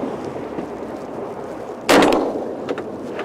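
A single loud shotgun-style blast rings out across open water while hunting turrs (murres) off Fogo Island, sharp and close, after a stretch of wind and engine-like background rumble.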